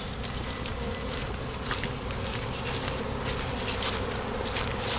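Dense, continuous buzzing of many honeybees swarming close by, a steady hum with occasional louder passes.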